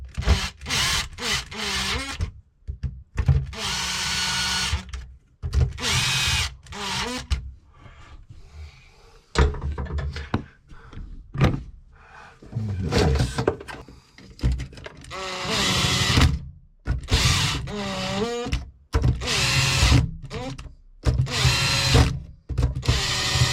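Power driver tightening the terminals of a Wylex fuseboard, whirring in repeated short bursts that start and stop many times, close and loud, with brief pauses between runs.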